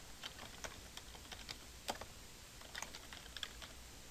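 Steady typing on a computer keyboard while entering a quiz question name, a run of light, quick key taps at a moderate pace, close and quiet, with no talking.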